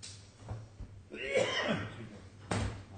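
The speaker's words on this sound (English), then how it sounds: "It sounds like your cough is as bad as mine" A few short coughs in a courtroom hearing, a muffled burst early on and a harsher, louder one near the end, set against a low steady hum in a quiet room.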